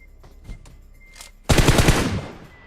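In a PUBG video game short film, a few faint clicks precede a sudden, loud, rapid burst of automatic gunfire lasting about a second, then fading away.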